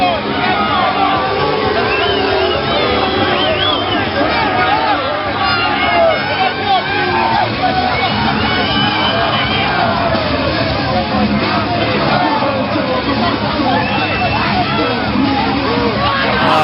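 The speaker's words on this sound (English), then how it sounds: "All the beta males are booing in the crowd as well" Large crowd at a fight event shouting and booing steadily throughout, a dense loud roar of yells and jeers with no pause.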